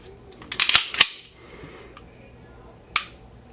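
A few sharp, close clicks from a Taurus PT111 G2 9mm pistol as the trigger resets: a quick cluster of snaps, then one more crisp click after a short pause, with no talking.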